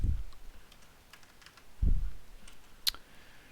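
Light, scattered clicks of keys being tapped on a nearby computer keyboard, with a couple of dull thumps and one sharper click.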